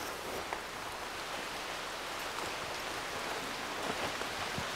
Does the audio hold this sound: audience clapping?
no